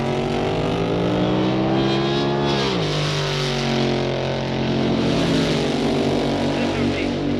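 A 1962 drag racing car at the Winternationals cranks and roars on the starting line, its engine droning loud and steady with a pitch dip midway, under a crowd-filled open-air setting.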